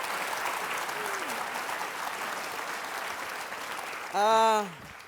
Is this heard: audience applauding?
yes